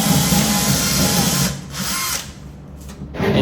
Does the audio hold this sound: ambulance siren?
no